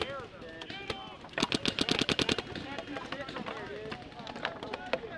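Paintball markers, including a Planet Eclipse Etha 2, fire during outdoor paintball gameplay around a picnic table bunker, with a rapid string of sharp pops in the middle and scattered shots around it, under a player talking.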